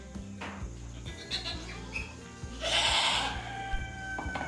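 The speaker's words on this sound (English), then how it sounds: "That little black goat right there." Goats on a small farm bleat several times, close by, mixed with rustling and other farmyard noise.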